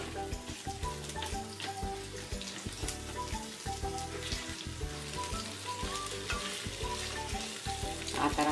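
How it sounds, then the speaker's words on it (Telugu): Green chillies and onion pieces frying in a home kitchen pan for chole, a steady sizzle with a stirring clatter throughout and occasional utensil knocks, close and continuous without talk. "పచ్చిమిర్చి, ఉల్లిపాయ ముక్కలు వేసుకుని పచ్చివాసన పోయి దోరగా వచ్చే వరకు వేయించుకోవాలి."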